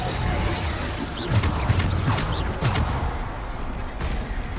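Bombarda spell blasts in Hogwarts Legacy, several booming impacts over a dense, loud din of game combat, with spoken bits mixed in.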